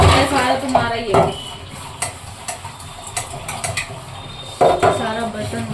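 Dishes, pots and cutlery clatter in a home kitchen, with a burst of clanks at the start, scattered metallic knocks through the middle and another cluster of clatter near the end, close and fairly loud.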